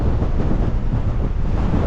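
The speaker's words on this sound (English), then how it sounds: "It's hard to walk because of the gust, so it's blowing" Strong gusting wind on a Pacific Crest Trail hike buffets the microphone, a loud continuous rumbling roar with uneven surges and no speech.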